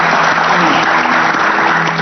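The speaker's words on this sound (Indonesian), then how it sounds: "Saya minta tepuk tangannya untuk tamu-tamu saya luar biasa." Studio audience applause for guests on a Ramadan religious talk show, dense continuous clapping that is loud and close for the whole short stretch, with no talking over it.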